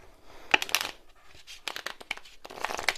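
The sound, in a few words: riffle shuffling playing cards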